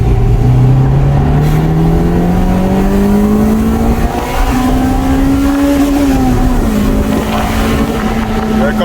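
A Honda Integra Type R engine pulls hard in VTEC out of a bend, a loud continuous rising engine note climbing steadily in pitch with a brief dip near the end, heard from inside the car with road and wind noise.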